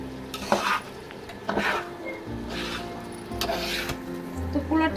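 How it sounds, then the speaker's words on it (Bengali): Polao rice frying in a pot for chicken ball biryani, stirred with a utensil that scrapes and clatters against the pot in several distinct passes over a soft sizzle. "তো পোলার চালটা আমার ভাজা হয়ে গেছে"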